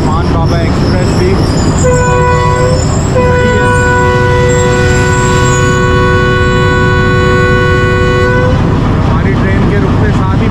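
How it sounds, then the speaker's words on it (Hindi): Departure whistle of a train at Wazirabad Junction, a loud sustained horn tone blowing for several seconds, with a brief break, over heavy rumbling station and train noise, with voices in the background. "हमारी ट्रेन के रुकते साथ ही 48 डाउन का डिपार्चर विसल हो गया है।"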